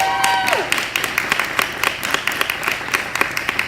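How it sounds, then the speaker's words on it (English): Audience applause at the launch of a Fashion Studies journal: a round of fairly close, steady clapping with some crowd voices mixed in. "Give that a round of applause."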